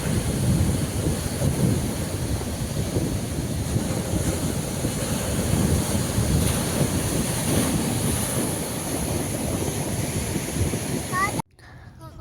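Steady roar of Arabian Sea surf washing onto Maravanthe beach, Karnataka, broad and continuous with wind buffeting the microphone, cutting off abruptly near the end.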